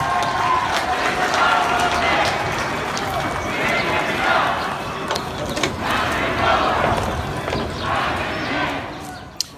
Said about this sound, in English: This is the crowd at the White House.